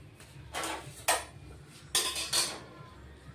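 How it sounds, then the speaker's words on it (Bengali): An iron kadai is set on a home kitchen stove, giving four or five short metallic clanks and scrapes spaced irregularly, close and moderately quiet. "কড়াই বসিয়ে দিলাম"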